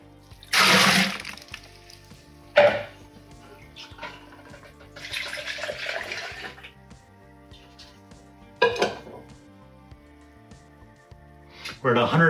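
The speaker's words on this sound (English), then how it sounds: "I'm gonna go ahead and dump the remainder of this hot water if I can" Hot water dumped from a vessel into a brewing pot for a Belgian IPA extract brew, several separate splashing pours with pauses between them, fairly close and loud against a quiet background.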